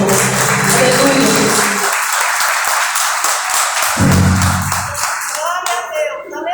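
Congregation clapping in a church worship service, loud continuous applause throughout, at first mixed with sustained music and a voice, then clapping with shouts alongside.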